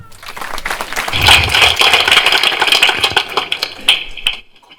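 Clapping from a church gathering's audience after a Bible quiz answer, a burst of hand claps rising quickly, holding steady for a few seconds and then tapering off.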